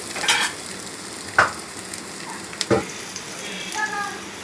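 Onion and green chili frying in pungent mustard oil in a pan, a steady close sizzle with a few sharp scrapes or stirs and small crackles, no voices.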